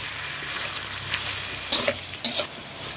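Spices fry with lemongrass and fresh bay leaves in a pan, a soft continuous sizzle broken by a few sharp stirring scrapes and spatters, close and fairly quiet.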